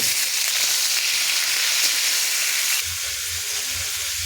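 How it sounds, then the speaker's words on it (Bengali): Cauliflower pieces seasoned with turmeric and salt fry in a pan, a steady close sizzle that drops slightly in level partway through while a low rumble appears beneath it; no voices. "ফুলকপিগুলো ভাজা চলছে"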